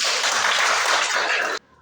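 Classroom applause from a group of schoolchildren, a dense steady burst of many hands clapping together for about a second and a half, then stopping abruptly.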